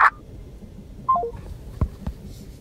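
A telephone keypad gives a few short, clear dial tones in quick succession, followed by a muffled knock and faint background noise.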